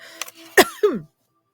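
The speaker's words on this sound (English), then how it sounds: "I have to clear my throat." A person clears their throat with a few short, rough vocal bursts up close, then silence.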